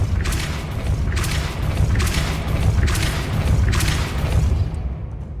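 Depulso spell effects in the video game Hogwarts Legacy: a series of four or five deep whooshing booms with rumbling low-end impacts, evenly spaced about a second apart and loud, ending abruptly.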